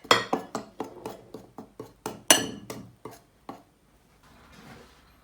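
Flour mixed with black pepper, salt and paprika in a bowl, heard as about a dozen quick, evenly paced clinks of a utensil knocking the bowl, close and crisp, fading into a faint rustling stir.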